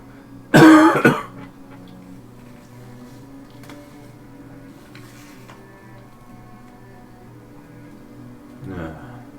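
A single loud cough breaks out near the start, followed by quiet room tone and a softer throat sound near the end.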